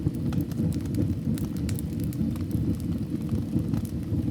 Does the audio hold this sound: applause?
no